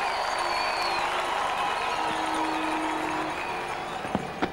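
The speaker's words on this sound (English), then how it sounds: "The crowd are really leaping around here in St Vincent, celebrating two wickets for Nixon McLean." Cricket crowd in St Vincent roaring and cheering after two wickets fall in a 1998 West Indies v England one-day international, a loud sustained wash of voices with a few sharp whistles near the end.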